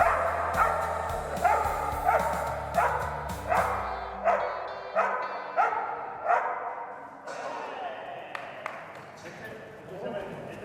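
A dog barks again and again in a steady rhythm, close by, the barks gradually fading toward the end.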